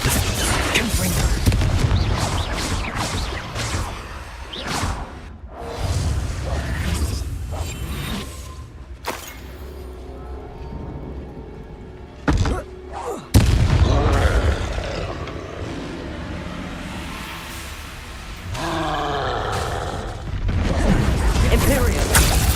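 Spell combat in Hogwarts Legacy: repeated booming blasts, whooshes and crashing impacts in bursts, loud and close, with short quieter gaps between flurries of casting.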